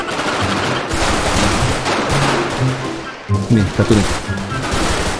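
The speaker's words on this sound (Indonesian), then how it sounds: "Ada yang nembak dari belakang" Bursts of automatic gunfire from a GTA 5 firefight, with rapid rattling volleys running throughout and a louder cluster of shots near the end, while someone speaks briefly over the shooting.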